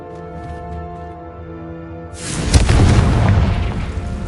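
Confringo spell blast in the Hogwarts Legacy video game, a single heavy booming explosion that bursts in after a quiet musical tone and rumbles on as it fades, loud and close.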